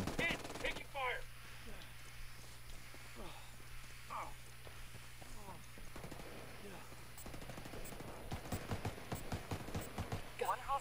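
Gunfire in Ghost Recon's Ghost War multiplayer mode, with scattered single shots early and then rapid automatic bursts growing dense toward the end, while voices talk over the action.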